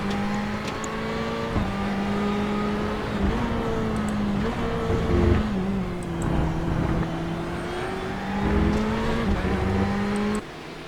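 Endurance sports cars, including HPD, GTE and GT3 classes, roar past at speed on the Twin Ring Motegi circuit, engines droning with rising and falling pitch as several cars overlap continuously.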